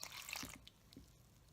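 A cup of lukewarm water is poured into flour for challah dough: a brief, close splashing rush for about half a second, then fading to a few faint drips and quiet.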